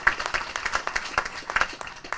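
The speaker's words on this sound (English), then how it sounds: "Let's give him a round of applause." Brief applause at a ribbon cutting ceremony, a scattered crowd clapping in an irregular patter for a couple of seconds.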